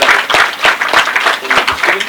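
Loud clapping from an audience at a celebration ceremony, quick rhythmic claps close by, with a voice talking over them.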